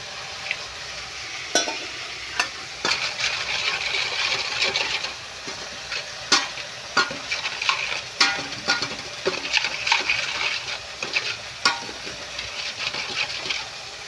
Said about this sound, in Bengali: তো আদা রসুনটা একটু ভালো করে একটু হালকা মতো ভাজা হয়ে গেলে